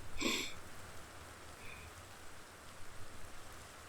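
Soft, steady video game rainfall patters faintly throughout, with a brief chime-like tone near the start.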